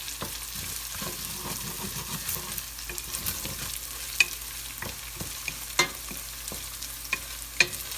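Garlic and spices frying in oil for pilau while being stirred, a steady close sizzle with scraping spoon strokes and a few sharper clinks against the pot.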